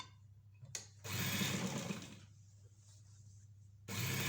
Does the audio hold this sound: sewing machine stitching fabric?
yes